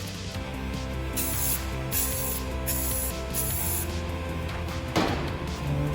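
Spray paint can hissing in short repeated bursts for hydro dipping, close and fairly loud, each spray lasting under a second with brief gaps, over a steady low background hum.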